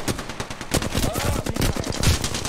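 Rapid automatic gunfire from an Apex Legends match rattles in dense, fast bursts, loud and close, with a voice speaking briefly over the shots.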